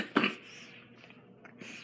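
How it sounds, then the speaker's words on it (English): A single short cough or throat-clear, close and fairly quiet, followed by a low room hush with faint breathy traces. "I still got a little bit of a cough."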